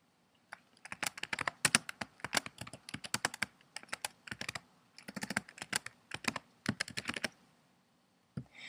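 Fingers type on a computer keyboard in quick bursts of light, close clicking keystrokes separated by short pauses, ending with one last isolated tap.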